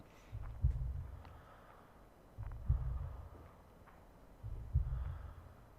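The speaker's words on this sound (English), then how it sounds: "Love this breathing and heartbeat sound." Slow, deep heartbeat thumps from the Year Walk game repeat three times at an even pace, each a soft double pulse with faint breathing in between.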